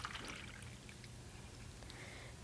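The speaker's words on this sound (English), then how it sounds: "Then I pour the 100 milliliters into this one" A soft trickling pour of water from one measuring container into another, quiet and brief over low room noise, ending with a sharp knock as a container is set down.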